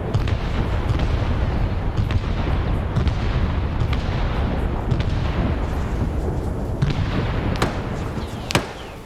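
Artillery and gunfire in a large Vietnam-era multiplayer battle, a continuous rumble of distant explosions layered with sharp cracks and thuds, loud and dense throughout, with one closer blast near the end.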